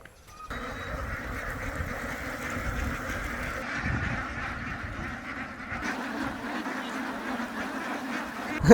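A flock of Khaki Campbell ducks quacking continuously nearby, overlapping calls forming a steady, noisy chorus throughout.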